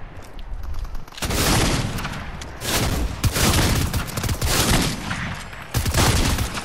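Sniper rifle gunfire in Fortnite: several loud, sharp broadband shots spaced a second or so apart, each followed by a short ringing tail, with no talking between them.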